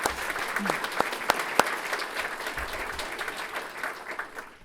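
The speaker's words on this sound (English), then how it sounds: "I think the least we can do is give one more round of applause." An audience at an honors dinner gives a round of applause, a sustained, fairly soft wash of many clapping hands with a few sharper claps standing out.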